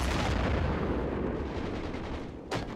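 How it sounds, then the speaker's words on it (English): Sustained heavy artillery-style firing and rumbling from mortars in the World War II strategy game Men of War: Assault Squad 2, loud and dense throughout, with a sharp fresh burst near the end. "Mortaring."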